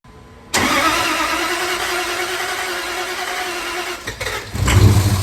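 A 3rd gen Dodge truck engine cranks and fires up after a new fuel pump install, catching abruptly and settling into a loud, steady run, with a brief dip and surge near the end.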